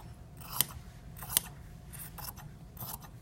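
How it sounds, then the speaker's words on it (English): Sharp scissors snip through plaid fabric in a few crisp, close cuts, with faint rustling of the cloth between strokes and no talking. "now you're actually going to see me use some real scissors."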